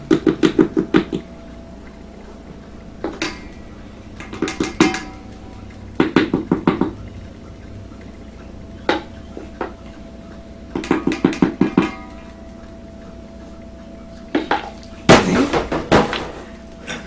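Flour dough is being stirred by hand in a bowl. The spoon knocks and thuds against the bowl in repeated bursts of quick strokes with short pauses between them, close and fairly loud, with no talking.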